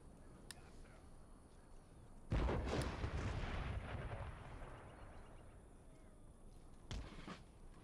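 Cannon fire in the video game Empire: Total War: a sudden deep boom erupts and rumbles away over several seconds, followed later by a second, shorter blast against a quiet background.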